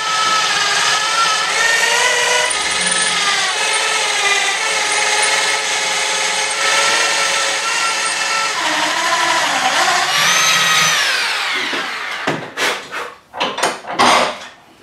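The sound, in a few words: drilling through a cast gear lever with a drill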